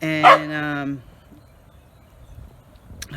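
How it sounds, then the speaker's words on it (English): A dog barks and yelps loudly and close at the start, wanting its ball thrown again, then falls quiet; a brief word of speech follows. "that's a dog telling me to throw the ball again"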